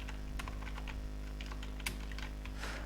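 Quiet, steady keystrokes on a computer keyboard while entering a cash memo in Microsoft Excel, with irregular bursts of clicks over a low background hum and no talking.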